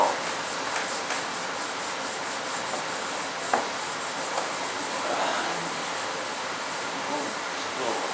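A heavy coat of wax is rubbed by hand onto a mold for F-105 Thunderchief kit parts. It makes a steady, close, continuous scrubbing swish with no talking, broken once by a brief knock partway through.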